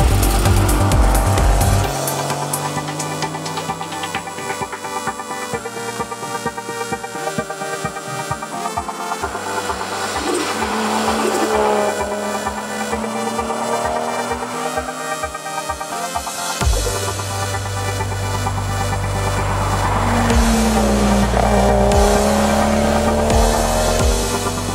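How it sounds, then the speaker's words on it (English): A Holden VL Commodore rally car running an RB25 engine roars through a Targa New Zealand tarmac stage, loud and close, revving up and down through gear changes with tire squeal, sustained for about twenty-five seconds without talk. "We've got the mighty VL Commodore. It's running an RB25 jet and it is a monster car."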